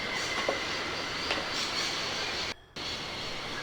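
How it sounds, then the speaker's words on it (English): A train in the video game Syberia rumbling steadily along the tracks nearby with faint clicks, broken by a brief moment of near silence. "Oh, that's the train on the other side."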